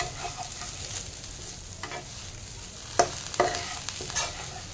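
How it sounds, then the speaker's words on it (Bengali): Torn chapati strips tossed and stirred in a hot pan with chilli flakes and oregano, a soft sizzle broken by a few scraping stirs and clacks of a spatula, close by with no talking. "রুটিটা দেওয়ার পর একটু জাস্ট ফ্রাই করে নিতে হবে, খুব বেশি ফ্রাই করার দরকার নেই।"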